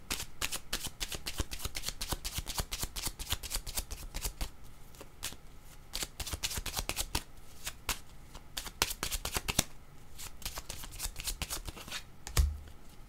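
Tarot cards being shuffled and drawn for a reading, a long soft riffling and flicking of cards close by with dense rapid crackles throughout and a low thump near the end, no voices.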